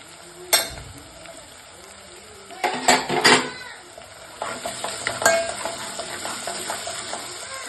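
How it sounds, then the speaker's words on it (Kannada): Ginger-garlic paste goes into a pan for a lentil saaru, with a few sharp metal clinks of a spoon against the pan followed by a soft ongoing sizzle and stirring scrapes, close up and without talk. "ಶುಂಠಿ ಬೆಳ್ಳುಳ್ಳಿ ಪೇಸ್ಟು 1 ಸ್ಪೂನು, ಶುಂಠಿ ಬೆಳ್ಳುಳ್ಳಿ ಪೇಸ್ಟ್ ಹಾಕೋಣ"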